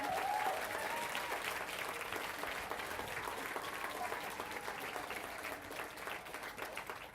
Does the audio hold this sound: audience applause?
yes